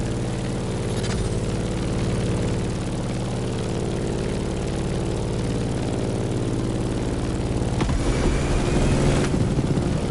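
Propeller airplanes drone steadily through turbulence in the racing game The Crew Motorfest, a loud continuous engine hum with a brief rushing swell near the end and no talk.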